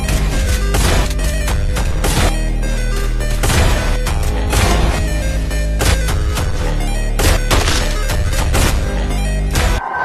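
Woodpecker gunshots in the Free Fire game crack out in loud, rapid bursts of sharp impacts, one after another for the whole stretch, over a steady tonal backing and with no speech.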